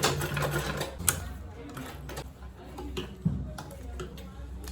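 A sewing machine back-stitches the seam of a zippered, lined make-up bag with a boxed-corner bottom: a steady close mechanical whir with small clicks, starting and stopping briefly, under a faint voice.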